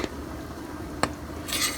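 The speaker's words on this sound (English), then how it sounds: "So we're going to stir that in there." Butter is stirred into a milk and evaporated milk mixture in a pot for homemade macaroni and cheese, giving soft scraping with a couple of sharp metallic clinks of spoon against pot, close and fairly quiet, with no talking.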